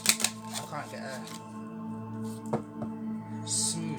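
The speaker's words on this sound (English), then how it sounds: "my cards keep bouncing, keep knocking at each other" Tarot cards are shuffled by hand in uneven bursts of riffling and knocking, loudest at the start and again near the end, with a quiet tonal hum in the background.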